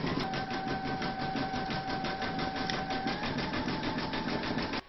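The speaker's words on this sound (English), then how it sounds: "Change your matching bobbin and thread for the leaves into your machine, and then you're going to stitch round number 6." A rapid, steady mechanical whirring rattles up close as an embroidery machine stitches the leaves of a pineapple coaster in the hoop. It runs without pause and cuts off at the very end.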